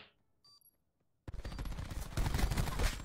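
Gunfire in an online shooter search-and-destroy match, a loud dense burst of rapid shots erupting abruptly after near silence and a couple of faint electronic beeps, continuing heavily to the end.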